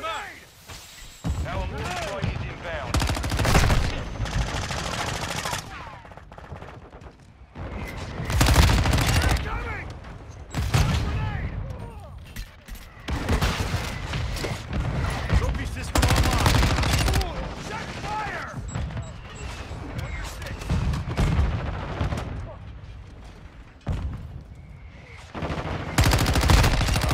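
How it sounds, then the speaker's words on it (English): Heavy gunfire and mortar strike blasts in a Modern Warfare II team deathmatch, with loud repeated bursts and rattling fire running throughout the clip while voices call out over the combat. "Our mortar strike is inbound."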